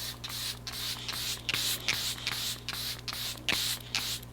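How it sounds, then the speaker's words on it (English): Makeup setting spray mists onto a face in about ten quick, close pumps, each a short, sharp hiss in an even rhythm. "I'm gonna do a little pre-spray"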